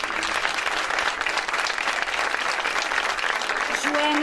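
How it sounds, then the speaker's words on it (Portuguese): Audience applause at a book launch celebrating fifty years of a harvesters' group in Bemposta: continuous, dense clapping from a sizeable crowd, loud and sustained for the whole stretch. "E agora peço um aplauso especial também pela coordenação e pelo excelente trabalho de design e paginação do livro, Hugo Martins"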